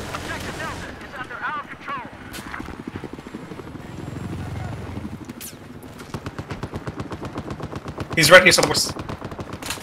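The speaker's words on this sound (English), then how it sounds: "He's shooting at me." Rapid automatic gunfire in Battlefield 4, with bursts of machine-gun fire and a helicopter drone in the background, a loud shot near the end, while a player talks excitedly over it.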